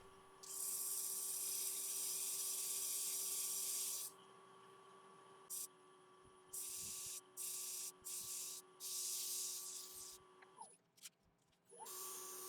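Sanding arbor held in a lathe chuck sands the base of a laburnum wood goblet, giving a loud, steady hissing whine in several bursts of varying length over a constant motor hum, with no talking.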